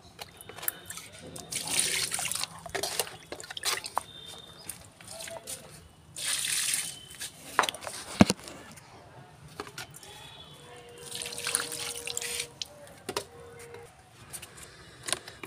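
Liquid vegetable-peel organic fertilizer is poured onto plants one by one in a garden, producing soft, intermittent splashing and trickling bursts that are faint and close, with pauses between pours.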